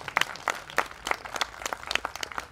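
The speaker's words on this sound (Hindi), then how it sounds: "ताली बजा सकते हैं इस बार" Audience applause at a lecture camp in Palitana, Gujarat: a room of people clapping in scattered, uneven bursts, moderately close and steady throughout, with no talk over it.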